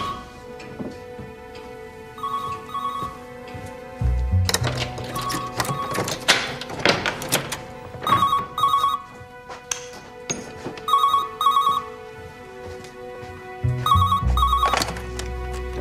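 A telephone rings in repeated bursts of electronic trilling, several rings separated by short pauses, fairly loud and close, with no talking over it.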